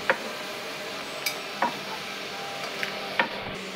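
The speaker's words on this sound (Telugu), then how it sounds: "వేసుకొని ఈ విధంగా కదుపుతూ వేయించుకోవాలి" Dried red chillies being stirred and fried in a pan for an ajwain leaf chutney: scattered light scrapes and ticks of a spoon against the pan over a faint, steady sizzle.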